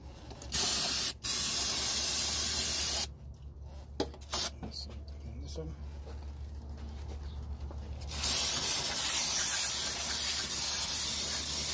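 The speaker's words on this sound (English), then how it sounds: "I'm gonna get some brake cleaner now, guys, and just clean off this area" Several bursts of aerosol brake cleaner hiss onto a 2005 Toyota Prius engine during head gasket work, a couple of short blasts then a longer sustained spray, loud and close, with some workshop background noise.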